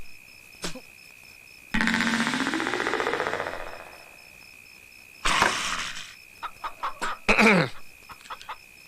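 Chicken clucking and squawking in a comedy scene, a long burst of agitated calls followed by short broken clucks and flutters, fairly close and loud.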